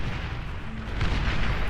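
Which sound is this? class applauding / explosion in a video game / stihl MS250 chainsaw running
explosion in a video game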